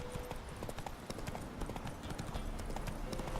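Horse hooves clip-clopping in The Witcher 3, a rapid, steady run of hoofbeats at moderate volume, close and continuous through the short stretch.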